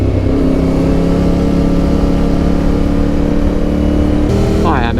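A Yamaha Tenere motorcycle engine drones steadily while the bike rides through canyon roads in Bosnia, loud and continuous with a mid-pitched hum, its pitch shifting near the end as the engine revs.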